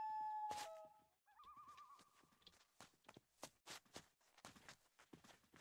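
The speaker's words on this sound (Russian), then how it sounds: "Я прям слышу, как они, как кони топчутся нахрен." Horses in the video game Gothic III neighing loudly up close, followed by a series of heavy hoof stomps and clopping steps in an irregular rhythm.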